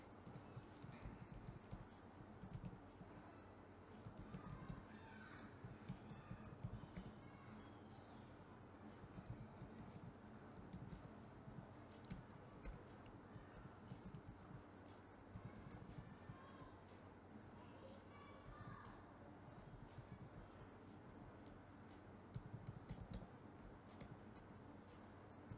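Steady, quiet typing on a computer keyboard while writing jQuery script code, soft clicking keystrokes continuing throughout with no talk.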